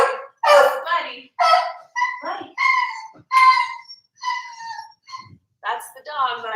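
A pet dog, agitated and freaking out indoors, barks in a rapid string of loud, close, strained yelps with only brief gaps between them.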